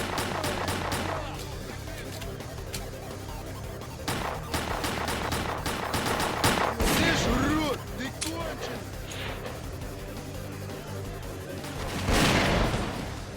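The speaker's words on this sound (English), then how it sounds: "That gunshot sounded like it was behind me." Gunfire in the STALKER: Clear Sky shooter game, scattered shots and bursts cracking at varying distances over a constant ambient rumble, with a louder cluster near the end.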